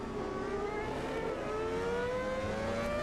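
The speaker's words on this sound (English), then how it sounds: "just hear that V10 engine roar" A Formula V10 Gen 2 race car roars around the Jerez circuit in Automobilista 2, its high-pitched engine whine held steady and rising slightly as it pulls through the gears, loud and continuous.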